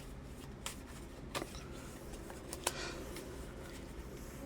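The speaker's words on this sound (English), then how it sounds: "This is my oracle deck that I use for myself. It's really big, so that's why I have to cut it in two." A large oracle card deck is cut and shuffled, giving faint soft riffling and papery slaps with a few sharper snaps, quiet and close.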